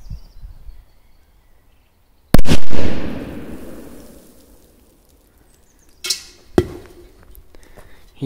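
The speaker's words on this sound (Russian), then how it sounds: "Есть взрыв." Crazy Robots firecracker exploding beside a small metal canister: one sharp, very loud bang with a rumbling decay, followed seconds later by two smaller pops.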